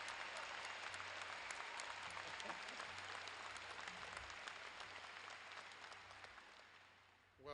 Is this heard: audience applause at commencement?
yes